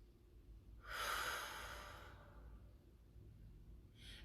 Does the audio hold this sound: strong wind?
no